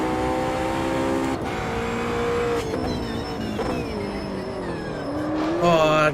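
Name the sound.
GT3 car locking brakes at Bathurst, Automobilista 2 video game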